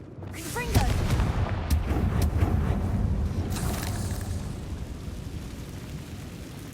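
A Confringo fire spell blasts in Hogwarts Legacy, a booming explosion followed by a rumbling, crackling roar that fades over several seconds.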